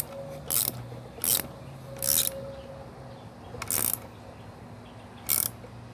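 A torque wrench on an Evinrude E-Tec 25hp outboard during impeller replacement gives five sharp, separate clicks at irregular spacing over steady low background hum, close and clear.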